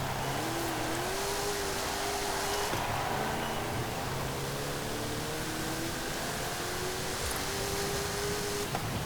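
A 1966 Oldsmobile Toronado in Forza Horizon 5 drones steadily at high speed, its engine tone rising and shifting in long smooth sweeps with a brief lift near the middle, all over a dense broadband wash of road and wind noise.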